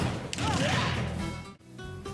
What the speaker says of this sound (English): A grenade with a smaller explosion radius, but knocks foes towards you.